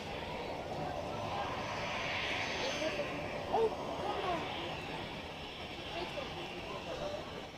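An Airbus A380 departing Zurich Airport for Dubai gives a broad, steady engine roar that swells and fades slightly over outdoor wind noise, with people talking nearby.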